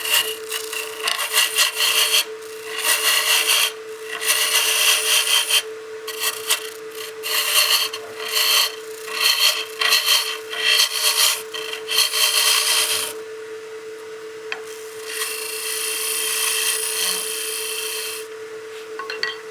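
A skew chisel takes a peeling cut on a wood lathe while turning a baseball bat, giving a steady rasping, scraping hiss in bursts as the tool engages the spinning spindle, close and loud, with a constant motor hum beneath and no talking.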